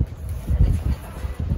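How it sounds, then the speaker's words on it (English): Gusty wind buffeting a microphone in low, rumbling bursts that rise and fall unevenly. "It's windy as hell."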